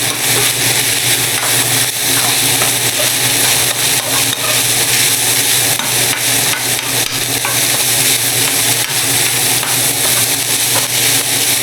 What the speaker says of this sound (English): Time to add some teriyaki sauce to my ground turkey.